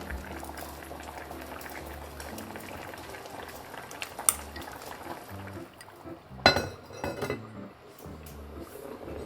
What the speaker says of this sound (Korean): (5분간) 더 졸인 뒤에 대파와 고추를 넣고 2~3분만 더 졸여주면 완성이에요.